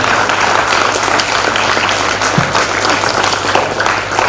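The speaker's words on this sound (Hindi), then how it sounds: "तो यहाँ पे जितने भी पेरेंट्स हैं उनके लिए एक ग्रेट राउंड ऑफ अप्लॉज होना चाहिए फ्रॉम दी स्टूडेंट्स। जोरदार तालियां।" Students in an audience give loud, sustained applause for their parents at a motivational school event, a thick, even roar of clapping hands lasting the whole stretch.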